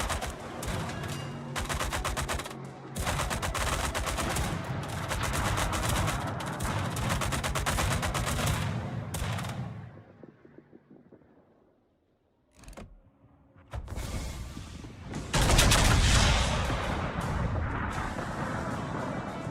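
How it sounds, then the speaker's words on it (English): Warship guns firing in the World of Warships naval game, with dense, loud booming salvos and rumbling explosions for about ten seconds, a brief near-silent gap, then more heavy gunfire and blasts. "I swung my guns around to shoot him."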